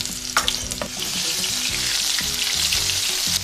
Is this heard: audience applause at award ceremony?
no